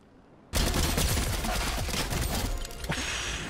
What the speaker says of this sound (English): there's some shots ripping off over here